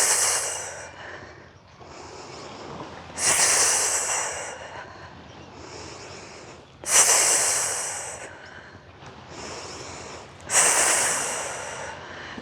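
Forceful exhales during a qigong lung-clearing exercise, three long loud breathy blasts spaced a few seconds apart, close to the mic, with softer breathing between them and no talk.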